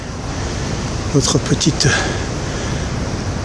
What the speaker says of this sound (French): la houle qu'on voit déferler là-bas